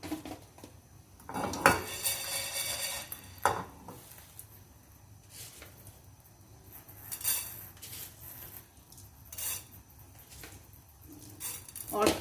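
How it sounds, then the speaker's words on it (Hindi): Utensil scraping and clinking in a pan while coriander seeds, cumin and black peppercorns are dry roasted for a karahi, with bursts of stirring clatter spaced between quieter stretches and some faint talk. "बस इसको बिल्कुल ड्राई रोस्ट करूंगी"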